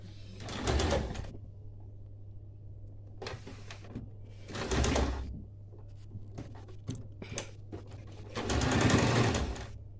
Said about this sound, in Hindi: जो हमने मार्क किया है वहाँ से सिलाई कर देना है।